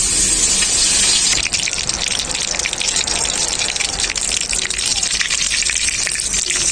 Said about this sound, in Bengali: এরপর আমি তেলের মধ্যে ছেড়ে দেবো